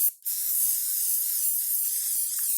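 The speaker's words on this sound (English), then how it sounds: "all we're going to do is spray over the openings" An aerosol spray can releases white paint over the openings of a stencil on a shirt in a steady, continuous hiss that lasts over two seconds after a brief lead-in, close and alone.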